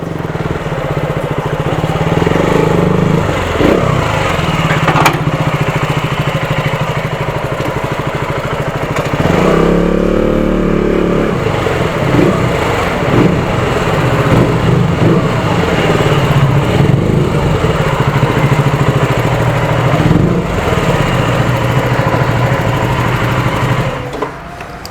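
KTM Duke 200 and RC390 motorcycles ride on roads near Masinagudi with a continuous buzzing engine drone, loud and close, rising and falling slightly as the bikes move, with wind rush mixed in and no talking.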